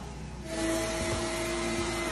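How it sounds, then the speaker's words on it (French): A vacuum cleaner switches on and runs with a steady, loud whine and broad rushing hum. "Quand le bruit de l'aspirateur t'agace."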